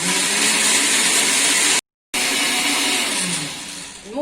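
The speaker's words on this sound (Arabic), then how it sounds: "انا طحنت الحامض ديالي" An electric blender grinding lemon with a glass of water, a loud close whirring roar that cuts off briefly, restarts, then winds down at the end.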